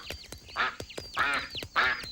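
A person imitates a duck with a series of three nasal quacks in a tropical bird setting, each burst loud and close, separated by short pauses.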